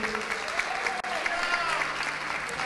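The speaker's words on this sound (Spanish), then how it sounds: "Un aplauso para Clanstone." Steady applause from an audience at a gaming event as a player called Clanstone stands up, continuous clapping throughout with no break.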